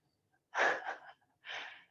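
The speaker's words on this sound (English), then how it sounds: "if you hear snoring, anybody hear snoring?" Snoring from someone lying relaxed during an evening yin yoga class: two breathy, snorting inhalations about a second apart, close and moderately loud, with no talking.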